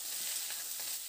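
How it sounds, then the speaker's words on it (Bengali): Drumsticks and potatoes frying in hot oil in a pan, giving a steady, close hiss of sizzling with faint crackle throughout, no voices. "আলু আর ডাঁটাটা দিয়ে বেশ কিছুটা সময় ধরে একটু ভেজে নেব"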